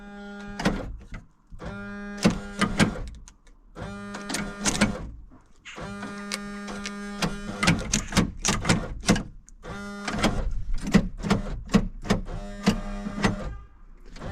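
Central locking on a Mk3 Vauxhall Cavalier 2.0 16v, revived after years off the road, glitching with a wiring fault: repeated clunking actuator bursts and whirring solenoid pulses fire in irregular clusters, close and fairly loud, with no talk.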